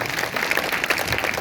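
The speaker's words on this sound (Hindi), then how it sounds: "अगर आए हैं तो जोरदार तालियां बजाएं।" A Sunday church congregation claps together, a dense, steady wash of applause filling the hall for a moment without a clear beat.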